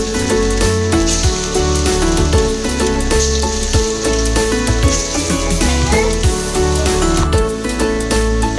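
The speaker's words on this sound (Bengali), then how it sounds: "এবার ডালের বড়াগুলো একটা করে ছেড়ে দেবো।" Lentil fritters fry in hot mustard oil in a kadai, a loud, steady sizzle with constant bubbling crackle and scattered sharper pops throughout.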